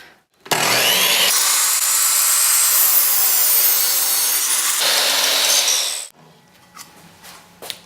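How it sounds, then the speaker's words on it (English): A compound miter saw making a 45-degree bevel cut through clamped wood, a loud continuous cutting roar lasting about five seconds, then the blade spinning down into quiet with small clatters. "since I'm going to be cutting a 45-degree angle bevel cut"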